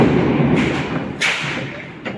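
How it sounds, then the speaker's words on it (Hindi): Diwali firecrackers going off, with a sharp loud bang in the middle and another at the end over a steady background rumble, close and forceful. "पटाखों की आवाज़ से दिए बुझ जा रहे हैं"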